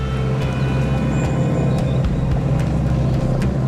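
Range Rover Sport crawling over a large off-road hump, a loud, steady engine drone with low rumble and occasional thumps and creaks from the suspension, no talk.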